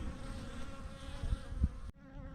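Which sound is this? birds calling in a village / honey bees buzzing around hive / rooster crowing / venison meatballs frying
honey bees buzzing around hive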